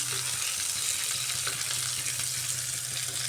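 Pointed gourd frying in hot oil gives a close, even, hissing sizzle that holds steady with faint crackles throughout and no voices.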